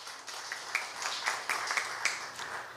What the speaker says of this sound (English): You may give him a round of applause.